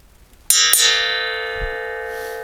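An old steel saw blade is struck twice in quick succession and rings out with a bright, high metallic tone that slowly fades.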